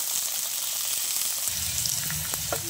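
Taro stalks fry in a hot pan with a steady, loud sizzle throughout, and a few light clinks of stirring near the end.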